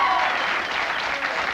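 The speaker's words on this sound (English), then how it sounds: "Man, sounds like a sports crowd tonight, doesn't it?" A late-night talk show studio audience cheers and applauds loudly like a sports crowd, a dense, continuous wash of clapping and hollering that fills the room, with a voice talking over it.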